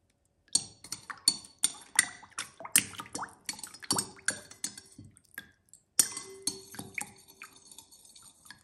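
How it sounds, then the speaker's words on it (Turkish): A dessert spoon stirs baking soda into a bowl of water, giving a close run of irregular clinks and taps against the bowl. There is a short pause midway before the clinking resumes, with no talking. "Bir tatlı kaşığı kadar karbonatı suyun içerisine koyup karıştırıyorum."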